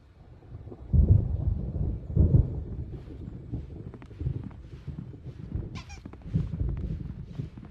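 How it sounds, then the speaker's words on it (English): Thunder rolls through a thunderstorm in Alan Wake Remastered, with two loud low rumbles early on and quieter rumbling and crackles after that. Wind and rain noise sit beneath, and no one speaks. "There's a storm coming. Oh, what a storm."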